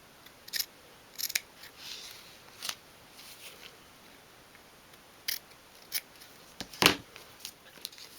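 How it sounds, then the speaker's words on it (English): Scissors snipping through fabric along a foam edge while making a dolls house cushion, a series of quiet, crisp cuts in irregular clusters against a near-silent background. "I'm just cutting now along to the top corner of the foam like that"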